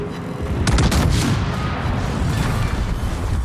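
Rapid volleys of battleship secondary guns firing in World of Warships on the Schlieffen, loud booming salvos clustered early, then a rolling rumble of further shots and distant impacts with no talking.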